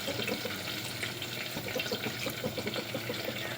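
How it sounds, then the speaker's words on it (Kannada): Water poured into a simmering North Karnataka-style curry in a home kitchen, a continuous close splashing trickle with steady bubbling texture and no talk. "ಇಲ್ಲಿ ಇನ್ನೊಂದು ಸ್ವಲ್ಪ ನೀರು ಹಾಕ್ಲತ್ತಾರ ನೋಡ್ರಿ."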